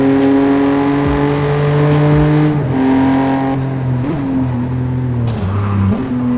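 A BMW M3 F80 drives through traffic, its engine holding a steady loud drone close up, the pitch dipping and rising with gear shifts and throttle changes.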